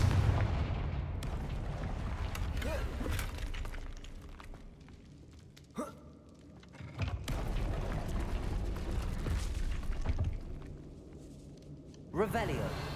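Confringo fire spell from the video game Hogwarts Legacy blasting amid busy game effects, with a sharp burst near the six-second mark and another near the end, while a person talks over much of it.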